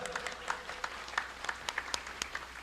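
Scattered audience clapping at a humorous religious talk in Brebes, a fairly quiet patter of separate claps at an uneven rhythm with no talk over it.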